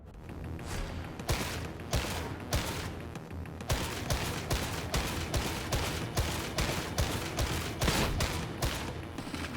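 Lasgun volley fire in Warhammer 40K Darktide, a rapid series of sharp, loud energy shots in a regular rhythm with short gaps, continuing without pause.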